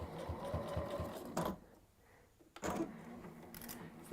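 A sewing machine stitches quickly across a fabric pleat, with a steady close mechanical whir that stops briefly in the middle before running again, and a sharp click at the very end.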